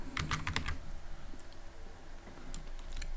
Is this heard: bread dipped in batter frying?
no